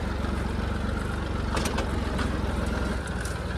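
A heavy tractor engine idles in a wet field before cultivating, a steady low rumbling drone close by with a few faint clicks and knocks over it, no voices.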